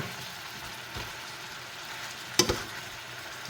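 Kwetiaw noodles frying in a small amount of oil, a steady hissing sizzle throughout with one sharp clatter of a utensil against the pan partway through, close and fairly loud.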